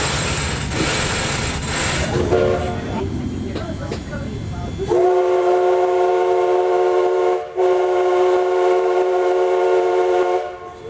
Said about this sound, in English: We are waiting for that whistle blast from our engineer.